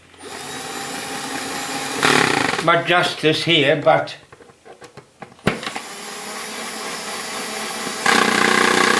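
A power drill whirs in bursts while fixing a dog stop fence in place, short loud spins separated by someone talking, then the motor runs again at the end.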